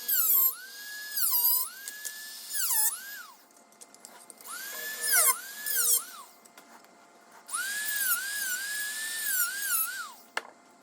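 A small power drill whines as it bores holes in a plastic truck mirror housing for an LED strip retrofit, in repeated high-pitched bursts with rising and falling pitch and short pauses between them.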